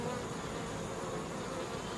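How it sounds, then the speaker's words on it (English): Honeybees drone steadily across a hive frame during a fall inspection, a dense, continuous close-up buzz that holds at an even level throughout with no speech. "So it's always good to see your queen bee."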